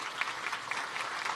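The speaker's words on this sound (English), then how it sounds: "One more round of applause." A town hall audience gives a round of applause for visiting high school students, a short burst of steady, even clapping from a mid-sized crowd.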